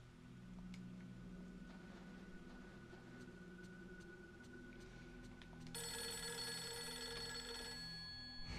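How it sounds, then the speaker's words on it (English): A telephone rings inside the horror video game Fatal Frame 3, the ring tones layered over steady game ambience, with a brighter, louder ringing tone starting partway through and continuing to the end. "Oh, whoa, the phone is ringing."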